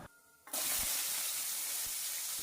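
Onions hit hot oil with fenugreek and burst into a sudden loud, steady sizzle that hisses on close up, with a few faint knocks beneath it.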